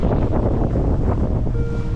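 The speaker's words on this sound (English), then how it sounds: "It's windy." Strong wind buffeting the microphone on a boat, a loud rumbling roar with gusty fluctuations and faint water sounds underneath, continuous for the whole moment.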